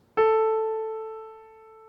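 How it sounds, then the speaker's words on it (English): A single piano note, the middle A key, is struck once with a clear attack, then rings and slowly decays over nearly two seconds, heard alone without talk. "But if I play the middle A key on a piano"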